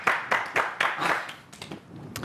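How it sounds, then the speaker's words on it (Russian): Scattered clapping from an audience at a Christmas evening event in Gomel, with short rhythmic bursts of hand claps at moderate volume that taper into softer, sparser claps. "под ваши аплодисменты я пройду к нашему дизайнеру Татьяне"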